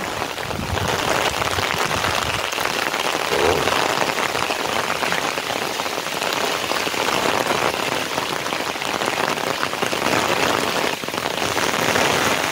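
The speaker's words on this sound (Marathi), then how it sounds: "पाऊस मध्येच वाढतो आणि मध्येच कमी होतोय।" Heavy monsoon rain pours down in the Konkan countryside, a loud, unbroken roar of drops on surfaces that swells slightly now and then, with no voices.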